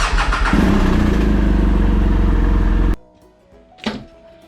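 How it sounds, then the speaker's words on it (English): A BMW GS motorcycle engine cranks and catches, running loud and steady for about three seconds before cutting off abruptly, followed by a brief soft thump. "That way you can start up your motorcycle"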